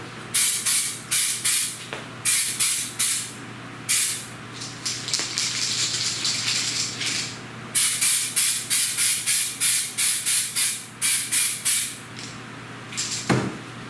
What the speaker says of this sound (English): So this can is spraying significantly better than that other can did.